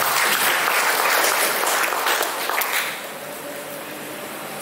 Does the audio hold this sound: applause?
yes